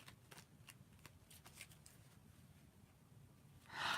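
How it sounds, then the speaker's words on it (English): A tarot-style deck being shuffled for a reading, quiet close card riffles and slides in short bursts, ending in a louder brisk riffle. "Cards keep popping out at me"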